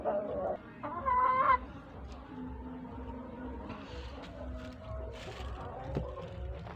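Chickens cluck and a rooster calls nearby in a chicken coop, with a person speaking Turkish intermittently over the birds.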